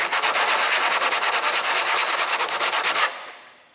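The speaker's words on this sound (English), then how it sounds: "Sandpaper." Hand sanding with sandpaper while preparing a Zenith CH750 aircraft cowl, a loud, rapid, steady back-and-forth scratching for about three seconds that then stops abruptly and fades away.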